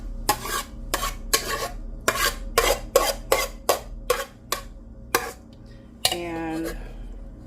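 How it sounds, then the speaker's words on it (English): A utensil scoops vegan chicken pot pie filling into a pie crust, giving about a dozen close, sharp scraping and clinking strokes in an uneven rhythm, then a softer wet smear at the end. "I think I can get one more scoop in it."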